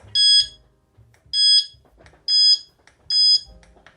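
An NGT VS fishing bite alarm sounding four loud, shrill electronic beeps, evenly spaced about a second apart, with faint handling noise between tones.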